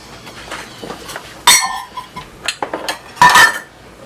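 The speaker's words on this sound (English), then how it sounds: "So, you add your sugar, all your dry ingredients, your salt, and your flour. And we're going to whisk this together." A whisk stirs sugar, salt and flour together in a bowl, giving a series of sharp metallic clinks and scrapes in irregular bursts, close and fairly loud, with no talking.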